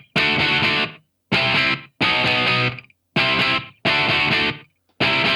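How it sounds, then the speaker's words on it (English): Electric guitar driven through an amp with added channel-strip distortion, loud gritty strummed chords in short repeated bursts separated by brief silences, played alone. "that's kind of coming from the channel strip distortion rather than the guitar amp distortion"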